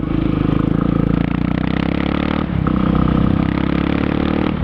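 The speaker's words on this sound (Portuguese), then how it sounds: "botei o escapamento Dory de novo" A motorcycle fitted with an aftermarket Dory exhaust holds a loud, close, steady engine roar with thick low harmonics, dipping briefly midway before rising again.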